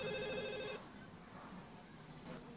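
A telephone rings once in a short, bright burst near the start, then cuts off, leaving only a faint hum of room noise, as part of a Halloween horror parody scene.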